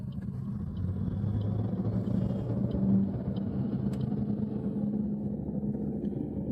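A car engine pulling along a road in second gear after moving off in first, a steady low rumble and hum that holds evenly throughout with no voices.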